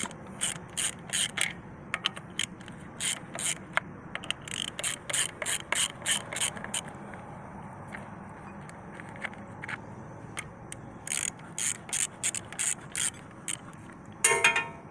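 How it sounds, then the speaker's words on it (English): Ratchet clicking in quick bursts while 10 mm bolts come off the timing cover of a Subaru engine during a water pump job, close and clear with short pauses between runs of rapid pawl ticks. "I'm just gonna take this timing cover off. Piece, 10 mil bolt."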